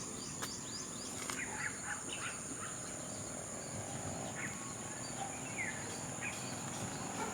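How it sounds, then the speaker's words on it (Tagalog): Birds sing outdoors in the morning, with scattered faint chirps and calls over a constant high insect drone and soft background hiss, all quiet and distant. "Magandang pakinggan ang huni ng ibon guys."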